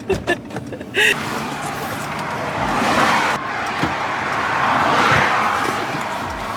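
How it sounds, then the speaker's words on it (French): A car on the road heard from inside the cabin, with a steady broadband rumble of tires and engine that rises and falls gently after a few sharp knocks at the start. "Je vais prendre le volant parce que Ayoub est littéralement en train d"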